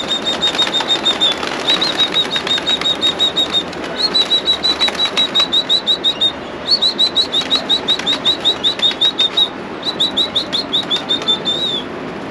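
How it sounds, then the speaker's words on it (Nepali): Pigeons flap noisily as they crowd into their coop, a near, loud run of rapid wingbeat bursts coming in clusters separated by short pauses, with faint bird chirps among them. "यसरी चाहिँ हाम्रो सबै परेवाहरू भित्र छिरे होइन त?"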